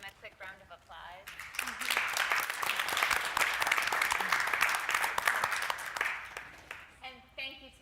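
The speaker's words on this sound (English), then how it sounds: "I'd like to give them a quick round of applause." Audience applause for panelists at a PeaceCon 2018 conference session builds into several seconds of dense, steady clapping, with a speaker's voice heard briefly before it begins and again as it fades out.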